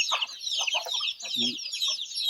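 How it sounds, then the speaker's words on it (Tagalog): Many small chicks of native Bisaya chickens peep densely and continuously in a coop, high and close, with a brief soft cluck from an adult bird underneath. "Ang dami na mga sisiw nila ho."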